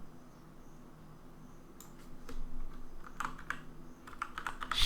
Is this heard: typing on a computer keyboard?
yes